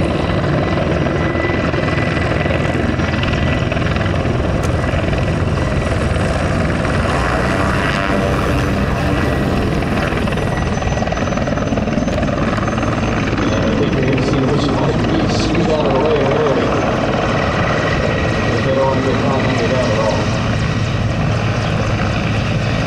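A Mi-24 Hind helicopter's rotor and engine roar loud and steady throughout, close and continuous, with a whining turbine tone on top, as it comes in to land.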